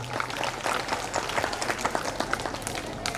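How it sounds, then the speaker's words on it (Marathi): Sustained audience applause greets the opening of a school art exhibition during an annual gathering, a dense, steady wash of many hands clapping throughout with no clear voices. "सर्वांनी जोरदार टाळ्या वाजवायच्या"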